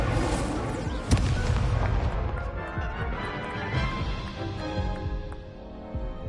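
An Incendio fire spell cast in the Hogwarts Legacy video game, a sharp crack followed by a roaring, crackling fiery rush and rumbling impacts that slowly fade.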